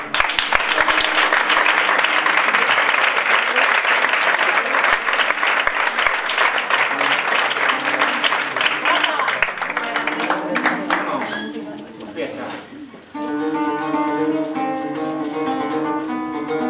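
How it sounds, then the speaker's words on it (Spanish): Audience applause at a flamenco concert in the Dolmen de Menga, loud and sustained for about ten seconds before it fades and music resumes, with some voices audible. "Un aplauso"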